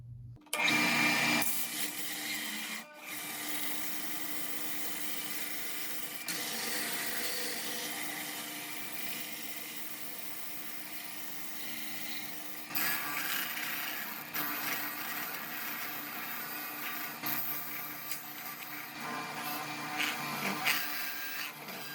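A power sander works over a freshly cast bronze piece, a loud sustained whirring grind that runs almost continuously, swelling and easing as pressure changes, with a short break near the start.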